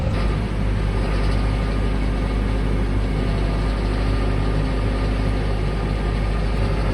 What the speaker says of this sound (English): About time this tractor is used for something like this rather than just running an auger.